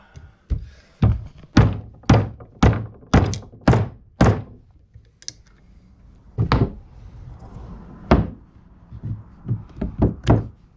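Metal pins on a motorcycle's aftermarket floorboard mount being hammered through, heard as a run of loud, sharp, evenly spaced thunks, then a pause and a few more scattered blows of varying strength.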